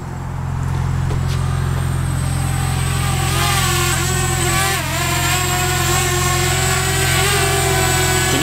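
A BMW M3 engine drones loud and steady under acceleration from inside the car, a continuous low roar with rising and dipping pitch sweeps and no talking.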